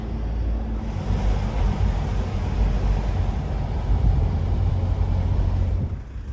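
Camper van driving down a mountain road through Durmitor National Park, Montenegro, under cloud: a steady, close low engine and road rumble that holds evenly throughout, with no talk.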